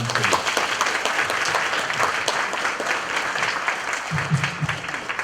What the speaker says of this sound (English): Another round of applause from around the table.